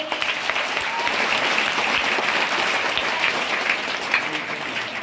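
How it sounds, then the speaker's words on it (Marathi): An audience at a public lecture event claps for their teachers, sustained dense applause from many hands, loud and continuous for several seconds without a break. "या तुमच्या सगळ्या गुरूंसाठी एकदा जोरदार टाळ्या झाल्या पाहिजेत."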